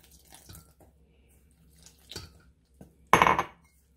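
A spoon clinks against a bowl while calamari batter of egg and water is mixed, with soft faint scraping followed by one louder burst of clattering near the end.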